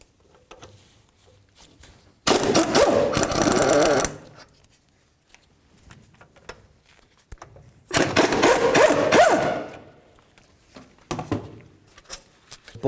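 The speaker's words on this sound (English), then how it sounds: "Now remove your 2 caliper bolts." Two loud bursts of a power tool, likely an impact wrench, spinning out the brake caliper bolts on a 2007-or-later Toyota Tundra, each lasting about two seconds with quiet garage pauses between.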